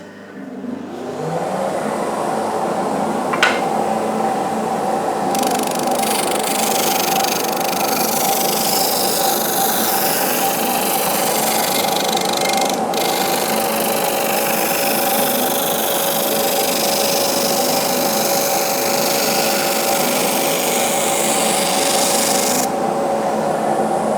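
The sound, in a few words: Jet JBOS 5 oscillating spindle sander running with dust extraction vacuum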